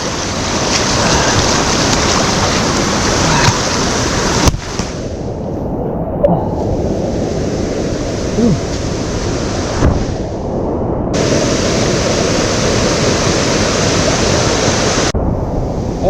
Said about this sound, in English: that's a crossing of the Franconia Brook. Boy, is that water freezing.